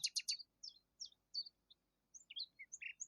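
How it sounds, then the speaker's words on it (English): A small grey bird perched on a bough chirps in quick, high tweets, a rapid triple burst and then scattered single calls, faint and close against a quiet background. "pointing to a little grey bird who was perched on a bough."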